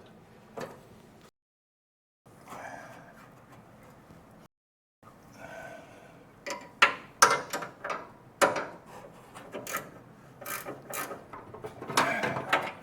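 Ratchet clicks and metallic mechanical clatter while bolting up the front suspension of a 1957 Chevrolet Bel Air restomod, irregular bursts of ticking and clanks close by with short pauses, no talk.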